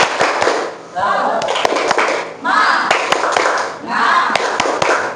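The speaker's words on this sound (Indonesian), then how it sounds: "sebelum presentasi kita tepuk semangat dulu gimana?" Classroom of students doing a rhythmic spirit clap together before a group presentation, sharp claps in repeating bursts that alternate with group chanting, loud and close.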